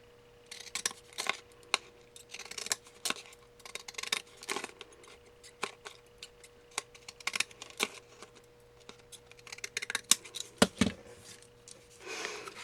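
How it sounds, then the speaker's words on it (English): Decorative-edge scissors snip along paper binding strips, giving a close, quiet run of crisp cutting clicks in irregular bursts, with short pauses and a sharper cluster near the end. "we're going to use our decal scissors again and kind of decorate that edge"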